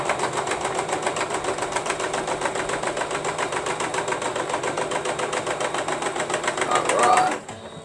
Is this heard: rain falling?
no